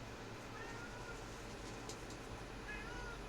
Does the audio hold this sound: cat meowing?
yes